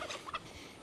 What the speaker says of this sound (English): The turkeys, they are so very talkative. You can hear them.